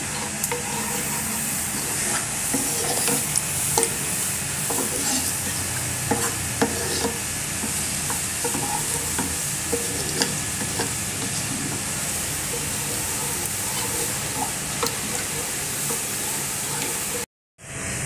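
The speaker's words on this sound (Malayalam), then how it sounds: "രണ്ട് ടേബിൾ സ്പൂൺ മൈദ നന്നായി ഒന്ന് ഇളക്കി നന്നായി ചൂടാവണം" Milk and maida heating in a pan are stirred continuously, giving a steady scraping, sloshing rhythm with a faint simmering hiss beneath, ending in a brief sudden cutoff.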